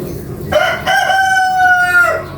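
A rooster crows once, loud and close, a long drawn-out cock-a-doodle-doo over faint background noise.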